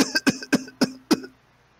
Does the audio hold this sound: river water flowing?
no